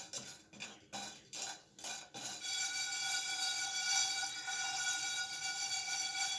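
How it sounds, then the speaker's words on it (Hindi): Whole spices for masala chai are stirred and dry-roasted in a pan over a low flame, a few scraping metallic strokes followed by a steady, continuous rattling shuffle close by, with no one speaking. "इन अज्जा को आपने हल्का हल्का हिलाते रहना है, एक जगह पे इनको नहीं रखना ताकि ये जले नहीं"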